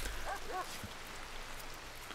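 Steady rain falls in the video game RimWorld, a continuous soft hiss filling the background, with a brief chirp-like game sound near the start.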